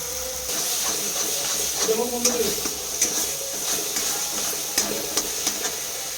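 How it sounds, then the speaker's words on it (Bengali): Spice paste being sautéed in a pan for a Bengali vegetable dish, a steady hiss and sizzle with repeated scraping stirs and light utensil knocks, close by, with a voice talking over part of it. "এটা মশলাটা ভালো করে কষিয়ে নেওয়া হচ্ছে তার সাথে।"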